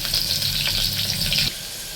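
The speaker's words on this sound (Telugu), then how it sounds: "ఇందులోనే కట్ చేసిన ఎర్రగడ్డ తర్వాత ఒక పచ్చిమిర్చి అండి ఇది బాగా వేగాలి" Chopped onion and green chili fry in hot oil for moong dal sambar, a steady bright sizzle with a crackling hiss that cuts off abruptly to a softer low simmer partway through.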